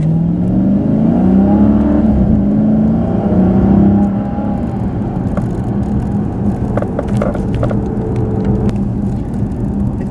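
A 2013 Dodge Charger SRT8 Super Bee cruising around town, its engine a steady low rumble and whir, loud and close, with a rising rev note at first that settles into an even drone.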